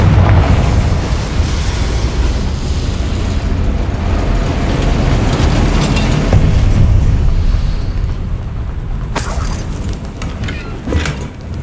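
Confringo blasting spell detonates in Hogwarts Legacy, producing a long, dense rumbling roar of explosions with low booming weight, a couple of sharp cracks near the end, loud and sustained.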